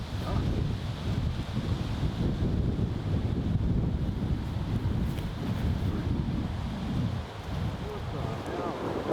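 Gusty wind buffets the microphone on an outdoor disc golf course, a loud, continuous rumbling roar with a faint voice underneath.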